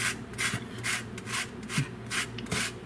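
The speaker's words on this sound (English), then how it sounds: "So let's zest up some lemon and put it into our pot." A lemon scraped against a handheld zester over a pot, several brisk rasping strokes in a steady rhythm, close and clear with no talking.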